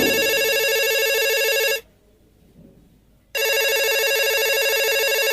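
A telephone rings for the Phone a Friend lifeline on the game show Kaun Banega Crorepati, a loud electronic ring that stops briefly into near silence and then resumes, with no talking.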